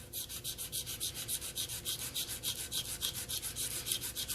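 Hand sanding a Guntank model: quick rhythmic rasping strokes, about five per second, close and steady with no talking.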